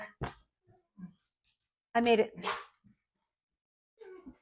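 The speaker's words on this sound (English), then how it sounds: "Oh, those would be my dogs. They're just barking." Several house dogs bark indoors at a dog passing outside: short bursts with gaps between them, fairly faint and set against a quiet room.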